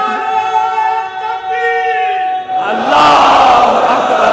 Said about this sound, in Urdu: اب پھر کوئی جوان تینوں نعرے لگائے،